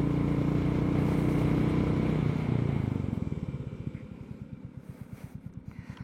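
A Royal Enfield Goan Classic 350 motorcycle during a brake test, its steady engine drone easing off as the bike slows, giving way to a slow, distinct thumping idle beat with no talking.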